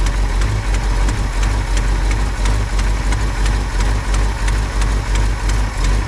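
A stepside truck engine running at idle, a loud, steady rumble with a regular pulsing throb and faint ticking knocks repeating throughout, with no voices over it.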